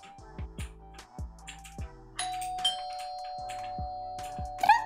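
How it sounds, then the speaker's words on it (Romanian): A doorbell chimes inside the Roblox game Brookhaven: a series of bright, ringing chime strikes that leave a long sustained tone, heard alone without talk. "Dragule, oare cine sună la ușă?"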